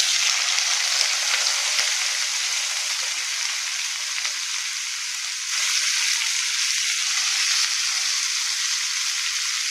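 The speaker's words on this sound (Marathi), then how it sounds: "लसण छान तळला, आपण त्यात आता ह्या शेंगा टाकून घेऊया." Green beans fry in hot oil with garlic, giving a loud, even, hissing sizzle that swells briefly midway and continues steadily throughout, close up with no talk.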